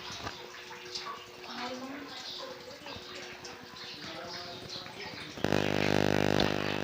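Water falling steadily from below inside the Zariya Mahadev temple spring, a continuous close splashing trickle that gets abruptly louder and brighter near the end.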